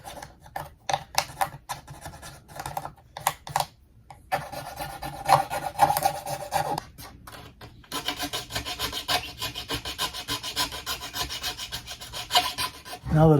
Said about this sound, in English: with using files, I can actually go in here and soften some of these edges a little bit